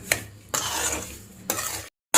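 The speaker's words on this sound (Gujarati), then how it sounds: "અને સતત હલાવતા જ રહીશું" A spoon stirs a fig and semolina sweet mixture in a pan for anjeer chocolate. Scraping strokes come in bursts with a soft sizzle underneath, close by and with no voices.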